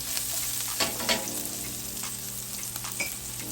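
Garlic, onion and parsley sauté in a pan, a steady close sizzle with a few louder bursts as the food is stirred and shifted, fairly quiet overall and with no talking.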